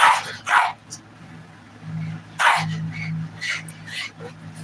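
Dog barking and growling while playing on a bed alongside a noisy cat indoors, several sharp barks in bursts between low rumbling growls, close and fairly loud.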